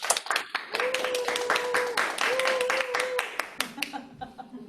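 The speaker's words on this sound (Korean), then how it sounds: "큰 박수로 모시도록 하겠습니다" An audience claps to welcome a speaker onto the stage at an indoor company platform event, a dense, fairly quiet patter of many hands that fades out toward the end, with a tonal hum and a brief voice over it.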